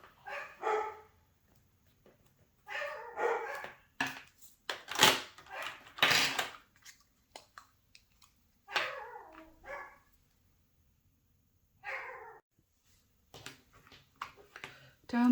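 Dogs bark at home in scattered clusters, some sharp and loud, others farther off and softer. There are stretches of quiet between the bursts, and a few faint noises sit in the gaps.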